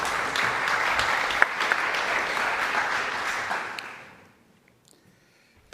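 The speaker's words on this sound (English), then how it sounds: "applause for Adrian." Audience applause at a EuroSciPy 2023 Python conference talk welcoming the speaker to the stage, steady clapping from a sizable crowd that fades out after about four seconds, leaving near silence.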